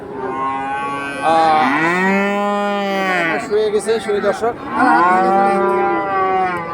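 Crossbred young bulls at the Raniganj cattle market in Ghoraghat, Bangladesh, give two long, loud, drawn-out moos, one near the start and one near the end, with market talk and a voice between them.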